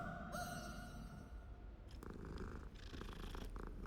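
A cat purring in the video game Hogwarts Legacy, a soft continuous rumbling purr that runs steadily throughout, close and quiet against a faint game background.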